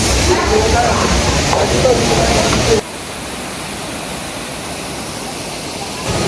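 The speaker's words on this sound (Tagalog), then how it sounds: "The famous Shifen Waterfalls." Shifen Waterfalls in Taiwan, a broad steady roar of falling water that drops to a softer, more distant rush partway through, continuous throughout.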